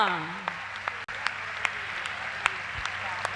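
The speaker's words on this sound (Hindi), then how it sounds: "जोरदार तालियां" Audience applause at a women's religious assembly in Avadhpuri, Bhopal, a steady, dense patter of many hands clapping at moderate distance, with a brief voice near the start.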